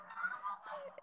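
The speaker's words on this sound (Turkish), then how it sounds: "şu anda kazlar bağırıyor." Geese honking nearby in a short burst of overlapping nasal calls, two quick phrases with a brief gap between, clear and alone without voices.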